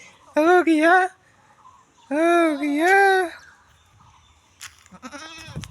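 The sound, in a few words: goat bleating while being washed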